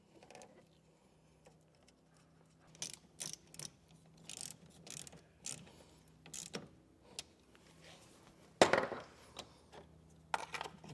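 A nut being tightened onto a wiring ring terminal during a Curt T-connector harness installation on a 2019 Mitsubishi, heard as faint, quiet clicks and ratcheting turns in short bursts, with one louder scrape near the end.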